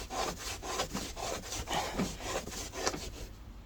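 Rubbing and peeling at carpet tape stuck to a dirty window sill, a close, rhythmic scrubbing rasp repeating in quick back-and-forth strokes throughout, with no talk.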